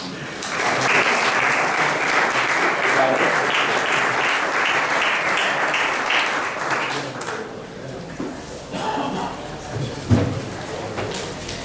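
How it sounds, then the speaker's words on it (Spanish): Sustained applause from a crowd, loud and steady for several seconds, then thinning out into scattered claps and murmuring voices. "por favor, un aplauso para Masi."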